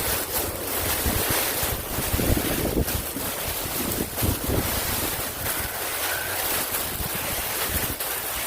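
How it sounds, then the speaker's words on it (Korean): Strong wind gusts across an open peach orchard during tree planting, a steady broadband rush with rumbling buffets against the microphone, loud and continuous throughout, with no talking. "오늘은 바람이 유독 많이 부는 것 같아요"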